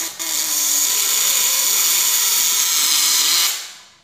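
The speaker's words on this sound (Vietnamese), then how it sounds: "Các bạn siết liên tục là máy vẫn còn liên tục, máy rất là mạnh" A cordless 16 D718 drill running with a 4 Ah battery, driving continuously in one long, loud, steady high whine that holds for several seconds then winds down at the end.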